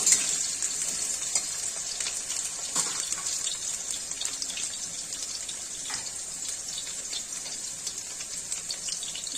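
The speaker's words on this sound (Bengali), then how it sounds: "হালকা করে আলুগুলো ভেজে নিব, যেন আলুর কাঁচা গন্ধটা চলে যায়।" Potatoes fry lightly in a pan for a spinach curry with eggplant, giving a steady, bright hiss of oil sizzle with occasional soft scrapes of stirring, close and continuous.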